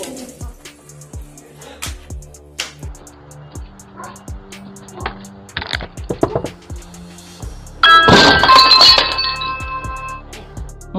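Dogs slam into glass with a series of sharp knocks and clinks, then a loud burst of shattering glass with ringing shards trailing off.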